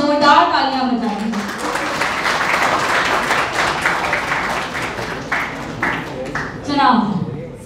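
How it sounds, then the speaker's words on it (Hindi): An audience at a panel discussion claps loudly for itself, a thick burst of applause that rises after a brief voice, holds for several seconds, then thins into scattered claps as talking resumes. "सबसे पहले तो आप लोग सब अपने लिए बहुत जोरदार तालियां बजाएं।"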